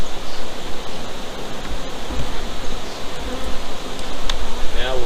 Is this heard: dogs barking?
no